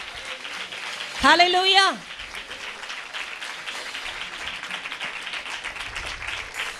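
A church congregation applauds during a sermon. Dense, steady clapping runs the whole way through, and a voice briefly calls out a loud exclamation over it near the start.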